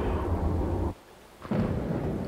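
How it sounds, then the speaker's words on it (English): Steady rain roars with rumbling thunder in the horror game Carrier, a dense low wash that drops away briefly and then surges back at full strength. "It's raining."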